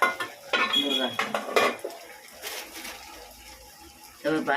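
Metal utensils clink and scrape against a pot while stirring pepper chicken in short bursts, with a voice speaking in between and a brief watery sound.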